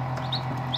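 Two high, thin peeps from newly hatched chicks sound briefly over the steady low hum of a homemade incubator, close by and fairly soft.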